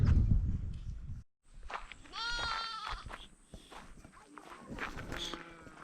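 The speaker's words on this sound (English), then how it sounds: "I hear goat cry." Goat bleating in a Maasai boma in Tanzania, one clear wavering cry close by amid footsteps on the ground, with faint rustling and movement around it.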